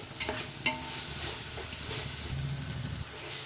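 Ginger-garlic paste sautéing in a pan for kada mandi biryani, with a steady sizzle and hiss, scraping stirs and a sharp metal clink near the start.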